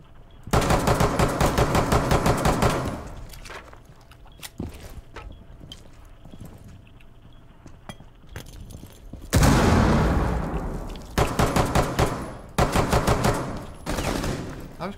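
Bursts of rapid automatic gunfire in the game Rainbow Six Siege, long loud sustained volleys with shorter single shots and pauses between, close and dominant.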